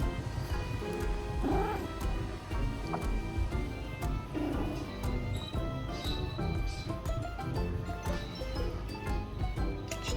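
A hybrid kitten meows and caterwauls close by indoors, with repeated vocal cries and soft purring over a busy background of ticks and household clatter.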